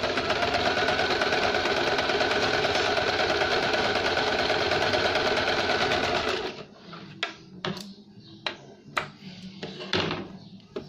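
A sewing machine slowly stitching a velvet princess-cut blouse runs steadily and loudly for about six seconds, then stops, leaving scattered light taps and handling clicks.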